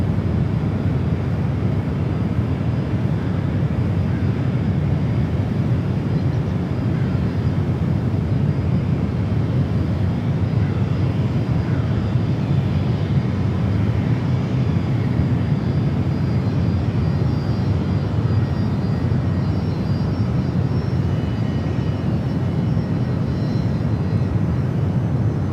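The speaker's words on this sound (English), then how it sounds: "SAS coming in from Copenhagen, A350 on the left" SAS Airbus A350 and a Delta jet landing side by side at SFO, a continuous heavy engine rumble holding loud and steady for the full stretch, with no talk.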